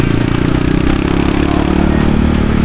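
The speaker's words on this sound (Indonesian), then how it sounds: "Sekarang gua pegang kembali motor ini." A Kawasaki KLX motorcycle engine runs steadily and loud up close, with a continuous low rumble and mechanical clatter throughout.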